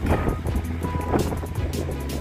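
Sea waves at a beach in Bilbao, Spain in cold, bad weather, a rough wash of surf mixed with gusty wind buffeting the microphone, no speech.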